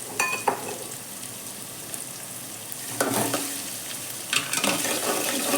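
Ginger and garlic frying in a pan for a bottle gourd dish, with a steady close sizzle and bursts of stirring scrapes around the middle and end, no voices.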